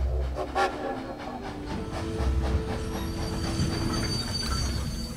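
A train pulls in at a station in the video game Awakening 3, its wheels squealing and rumbling loudly and steadily, with high metallic whines running over the clatter and no voices.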